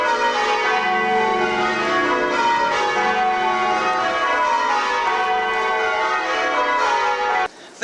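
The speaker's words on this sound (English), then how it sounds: "Mayor Kangaroo set the bells off just for me." Historic tower bells ring out along the Swan River waterfront in Perth, loud overlapping peals with rich sustained tones that layer continuously before cutting off abruptly near the end.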